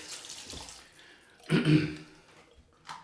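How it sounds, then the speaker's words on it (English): Water splashes and pours into a shaving bowl of lather, a short burst of wet sloshing and trickling, close by, with a brief splash at the end. "Let's add plenty of water so we can get some more moisture into this lather."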